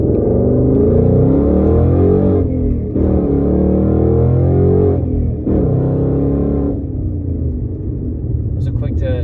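A 2019 Mustang GT with an MBRP Pro Series race cat-back exhaust pulls hard from a right-hand turn, its loud deep exhaust rising through the gears with a couple of shift dips, close up from inside the car with the windows down.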